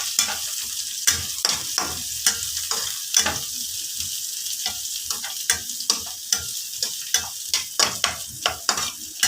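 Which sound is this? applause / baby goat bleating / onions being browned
onions being browned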